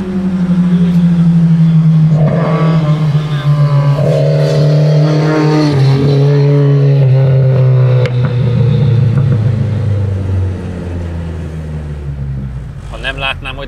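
Lada with a 2000 cc engine driven hard on a race track, a loud sustained engine drone whose pitch slowly falls and then drops away near the end, with people talking over it.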